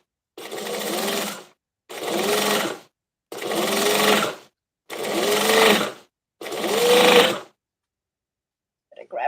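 A straight stitch sewing machine runs in five short, even bursts of fast mechanical stitching, each a second or so long with brief silent gaps, close and fairly loud.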